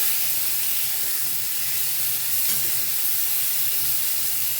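Cauliflower and potatoes frying in oil for a fish curry, giving a steady, dense sizzle and hiss that holds evenly throughout, close and moderately loud with no talk.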